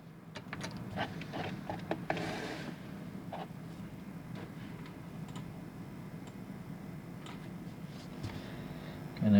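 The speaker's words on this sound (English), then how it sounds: "Let me get the spinning machine out." A motorized spinning display turntable holding 1/64 diecast Lamborghini Huracan models runs with a faint steady hum and irregular light ticks and clicks.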